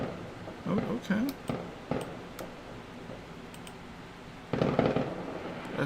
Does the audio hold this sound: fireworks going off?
yes